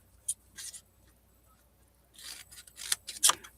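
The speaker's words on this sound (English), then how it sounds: "And then I'm going to cut it at 6 inches." Scissors snip through a strip of paper shaker belly band, two inches wide, at the six-inch mark. One short crisp cut comes first, then a quiet pause, then a cluster of closer, sharper snips and slides that grows louder.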